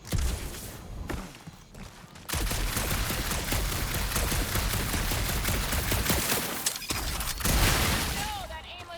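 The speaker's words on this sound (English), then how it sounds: "that aimless shooting isn't gonna scare the monsters away" Rapid bursts of gunfire from the Guardians of the Galaxy video game keep up a dense, loud, continuous fusillade for most of the stretch, with short gaps and sounds of character movement and game effects mixed in.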